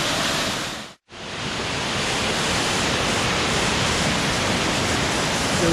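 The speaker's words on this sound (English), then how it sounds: "You can see all that water rushing through right there. Another neat cascade." Water rushes loudly and steadily through a rock cascade inside a cave on Vancouver Island, a dense continuous roar that drops out briefly near the start before resuming at full strength.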